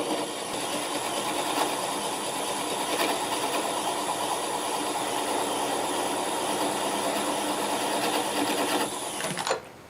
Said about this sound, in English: switch to the little spindle detail gouge and see if we can get that nub off